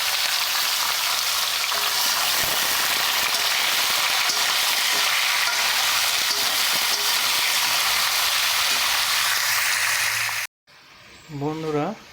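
Vegetables frying in a pan for a katla fish and shrimp curry, a loud, steady, dense sizzle close up that runs for about ten seconds, then cuts off abruptly before a voice speaks briefly.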